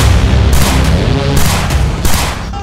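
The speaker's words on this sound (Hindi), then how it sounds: "ताबड़तोड़ गोलियां," Loud bursts of rapid gunfire over a low rumbling bed: several heavy volleys in quick succession, with no voices.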